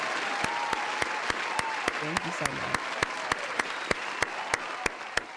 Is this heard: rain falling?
no